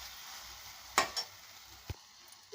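Chicken varuval frying in a pan, a faint, steady sizzle broken by a few quick stirring scrapes and taps, with no voices.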